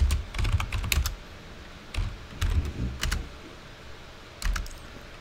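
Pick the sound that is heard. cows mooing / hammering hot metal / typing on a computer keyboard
typing on a computer keyboard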